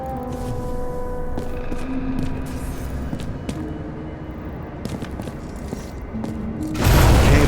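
A transformer fire explosion in a video game erupts as a sudden loud burst near the end, after a stretch of crackling, rumbling ambience with scattered thuds and tonal hums.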